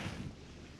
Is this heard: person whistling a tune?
no